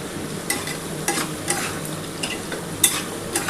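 Chicken for a dak bungalow curry frying in a pan, a steady sizzle broken by regular scraping strokes of a spatula roughly every half second, close and moderately loud with no talking.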